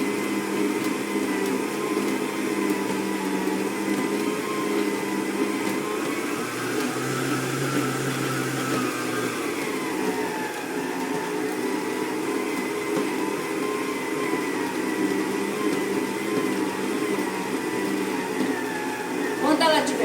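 A stand mixer with a dough hook kneads whole wheat bread dough, a steady motor whir with a shifting low rhythmic thump running for the whole stretch, while someone talks over it.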